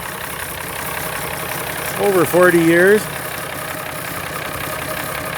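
A Farmall 706 tractor engine idles with a steady, even low rumble throughout, while someone talks briefly over it near the middle.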